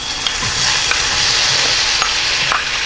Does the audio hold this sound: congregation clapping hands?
no